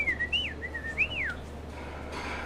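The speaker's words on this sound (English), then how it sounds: "Well, there was some whistling just now." A person whistles a few sliding, rising and falling melodic phrases close by, against a steady low background hum.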